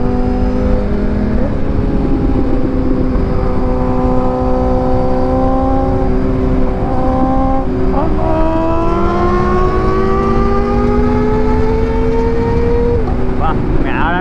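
A loud motorcycle engine with a decat exhaust revs up and down repeatedly, its pitch climbing and dropping in sweeping waves, close by and dominating throughout.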